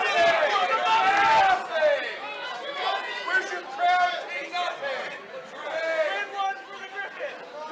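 A professional wrestling crowd murmurs and chatters in stunned reaction after a near-fall kick-out, a steady babble of many voices filling the arena.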